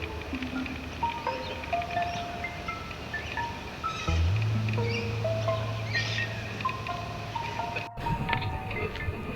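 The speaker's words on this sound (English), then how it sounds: "Just seeing the birds and listening to the bird calls" Assorted bird calls and chirps outdoors by water, scattered whistles and tweets from several birds at moderate distance over a constant hiss of wind and ambient noise, with no talking.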